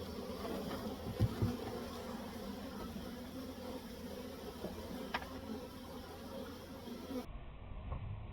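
Honeybees buzzing in a steady, moderately loud hum as they are shaken from two brood frames into a container, with a couple of brief knocks partway through.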